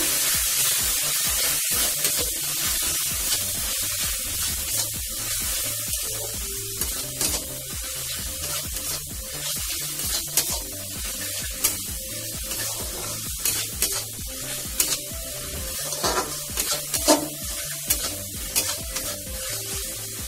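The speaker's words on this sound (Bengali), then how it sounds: "ভালো করে মশলাটাকে কষিয়ে নেব।" Spice paste of turmeric, chili powder and salt sizzles and spits steadily in hot oil while being stirred, with scraping stirs and occasional crackles throughout, close and continuous with no talking.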